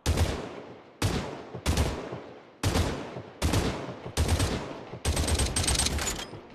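Gunfire in Fortnite VR: seven loud, sharp shots spaced roughly a second apart, each decaying into a short echo, the last two coming closer together.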